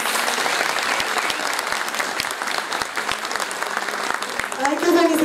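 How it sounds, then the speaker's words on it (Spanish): An audience at a higher-education congress claps steadily in a sustained round of applause, with a voice heard near the end. "Vamos a darle otro aplauso"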